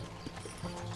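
Horse hooves clip-clopping in the Red Dead Redemption video game, a few soft uneven hoofbeats over quiet game ambience, faint and at a distance.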